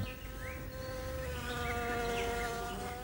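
Wasps buzzing steadily with several droning tones weaving over one another, a dense insect hum that stays close and fairly even, with no voices.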